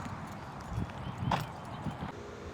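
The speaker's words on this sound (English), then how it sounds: "there were no horses in them because here are the horses" Horses walking with a steady clip-clop of hooves at moderate distance, several soft irregular footfalls over low outdoor rumble and faint background noise.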